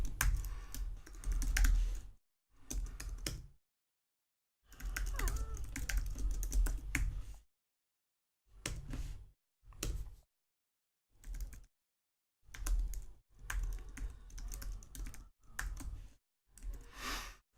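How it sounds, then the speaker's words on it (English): Typing JavaScript code on a computer keyboard, bursts of quick close clicking keystrokes broken by short silent pauses, with no talking. "I'm going to type out the es6 way of doing it first."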